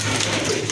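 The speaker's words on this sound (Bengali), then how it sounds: "অনেক বড় সাইজের এক জোড়া কবুতর" A big-sized white-and-black Rajgolla pigeon gives a short, close, soft cooing burst, heard on its own.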